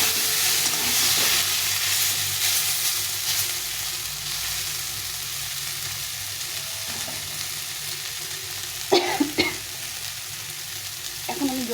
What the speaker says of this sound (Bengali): এভাবে মশলা তরকারির সঙ্গে দিলে সুন্দরভাবে ভাজা হয়ে যায়